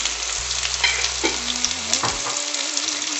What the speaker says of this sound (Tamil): இப்போ இதெல்லாம் சேர்ந்து நம்ம வந்து நல்லா நெய்யில் வணக்கிக்கலாம்